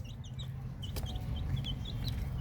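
Soft, high-pitched peeping of young chicks, repeated chirps scattered over a low background hum.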